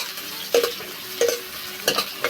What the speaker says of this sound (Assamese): পিঁয়াজটো ৰঙা হোৱালৈকে অলপ ভাজিম